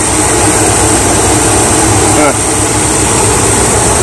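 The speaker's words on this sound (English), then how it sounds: "Boy, that thing's running pretty good." Chevy small-block V8 idling steadily after a distributor timing adjustment, a loud continuous rumble with an even low throb and no break in the sound.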